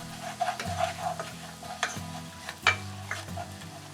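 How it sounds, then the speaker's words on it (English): Crushed Thai chilli jam ingredients stirred in about three tablespoons of oil over low heat, giving soft scraping strokes and light sizzling with a few sharper clinks of the utensil against the pan. "Briefly stir."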